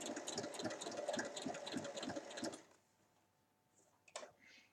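A sewing machine stitches the seam of a round baby cushion, running in a steady close whir for about two and a half seconds before stopping, followed by quiet and a brief handling noise.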